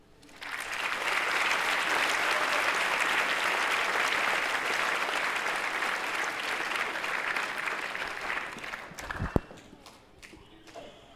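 Audience applause at a school pep rally, a loud sustained burst of clapping from a large crowd that holds steady for several seconds, then tapers off with a sharp knock near the end.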